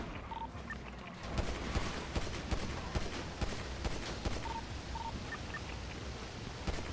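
Gunfire erupts in a GTA NoPixel roleplay shootout: a dense, continuous fusillade of rapid shots, fairly close, with faint electronic tones in the background and no one speaking.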